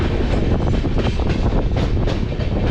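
Howrah Amritsar Mail passenger train running on the rails near Yamunanagar Jagadhri, a loud, steady rumble of wheels with faint rhythmic clatter, heard continuously from on board.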